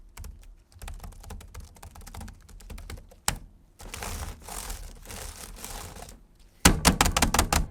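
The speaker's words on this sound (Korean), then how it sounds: "키보드 소리는 일반적인 타이핑 환경 시 한 40에서 60dB 정도 올라가는 평범한 키보드 소리 수치를 보여주고 있습니다" Rapid typing on an LG Ultra PC 15UD40N laptop keyboard clatters close by, keystrokes in quick irregular bursts with short pauses, growing louder near the end.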